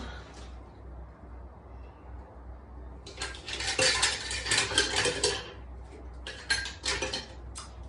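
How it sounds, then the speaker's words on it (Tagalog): A utensil clatters and scrapes against a pan while ginisang repolyo, sautéed cabbage, is cooked. There is a low steady hum underneath, then a few seconds of busy, close metallic stirring and a couple of later clinks. "Nagluto ko ng ginisang repolyo."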